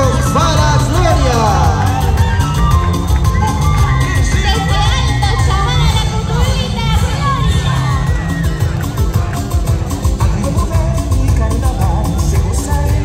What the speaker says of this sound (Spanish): Fuerte los aplausos para Gloria.